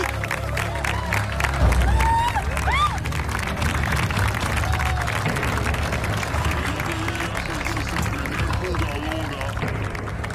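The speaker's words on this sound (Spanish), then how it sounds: "así que un aplauso" A large crowd applauding and cheering, steady and loud throughout, with some indistinct voices mixed into the noise.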